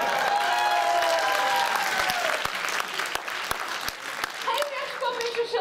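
An audience breaks into applause at a talk, a dense wash of clapping that starts strong and thins out over several seconds, with a few sharp individual claps standing out near the end.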